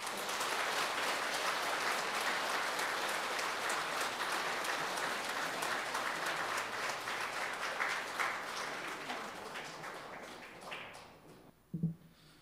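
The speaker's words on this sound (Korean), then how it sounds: "환영의 큰 박수로 신부님 맞이해 주십시오." A large audience applauds in welcome for a priest, a liturgy professor, arriving to give a Lenten lecture at a Catholic gathering; dense, steady clapping fills the room and slowly thins toward the end, closing with a single sharp knock.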